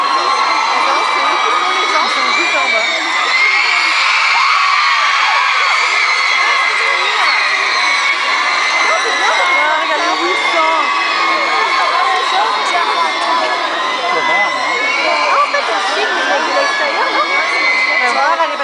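Loud, sustained screaming and cheering from a packed crowd of fans at a Twilight fan event in Brussels, high-pitched shrieks, whoops and yells blending into a continuous roar.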